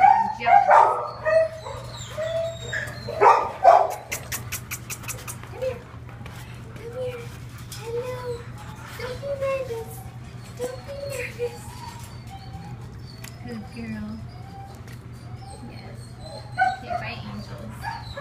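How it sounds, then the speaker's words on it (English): A silky-haired puppy at the San Bernardino City animal shelter barks, yips and whimpers close by, with a hum in the background and people talking nearby. "Definitely a puppy."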